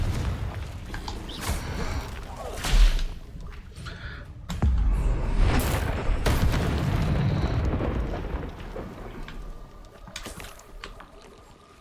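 Confringo fire spells burst in Hogwarts Legacy combat, several booming explosions at irregular intervals with crackling debris and rumbling tails, loud and close, amid other battle effects.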